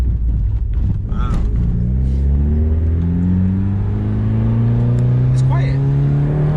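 A 2006 Mitsubishi Evolution engine revs steadily while driving, its rising pitch sweeping upward through the gears, loud and close from inside the cabin, with people talking over it.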